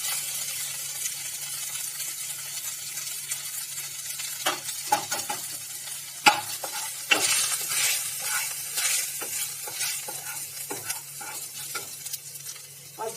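Ginger garlic paste fries in a pan with asafoetida and turmeric added, making a soft continuous sizzle punctuated by sharp spoon clinks and stirring scrapes, close and clear with no voices.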